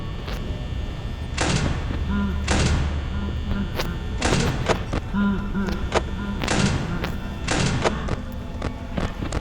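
A security office door in the horror game Five Nights at Freddy's slides and slams repeatedly, making heavy mechanical thuds in a rapid irregular series while a person talks in between.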